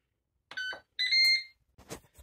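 An air fryer's timer signals that cooking is finished with two short electronic beeps, the second longer and louder. A voice starts talking right after.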